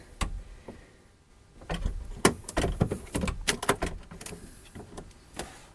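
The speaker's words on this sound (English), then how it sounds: "this is a port window, marine port window. Open it like that" A marine port window in a custom Ford Maverick camper being opened and handled, with close clicks, knocks and rattling metal taps in an irregular burst, no talk.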